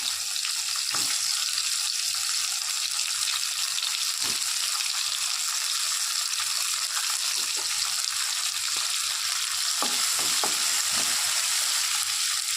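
Tomato with onion sautéing in a pan for a chana dal kofta curry, a steady close sizzle and hiss throughout with occasional spoon scrapes and clicks against the pan, no talking.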